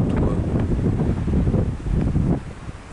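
Gusty wind buffets the microphone outdoors on a sunny day, with a loud, rumbling low roar that rises and falls in uneven surges throughout.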